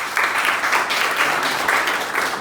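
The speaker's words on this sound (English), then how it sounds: "big round of applause for them" Dense, steady applause from an audience at a gym muscle camp event, many hands clapping together at close range for the full stretch with no talking over it.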